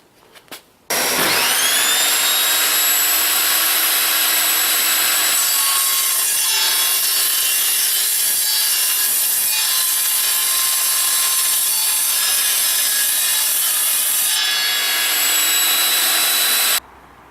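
Evolution Rage 5-S powered saw cutting through mild steel box section, a loud sustained metallic whine with ringing overtones that starts abruptly and holds steady for about sixteen seconds before cutting off.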